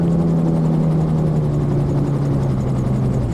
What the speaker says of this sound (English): So we're doing a hover taxi now.